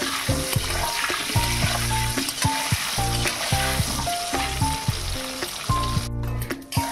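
Potatoes frying in oil after a pinch of salt, a steady crackling sizzle that fills the pan, loud and continuous throughout with no one speaking.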